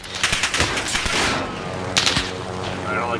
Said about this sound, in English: Oh, we're getting shot.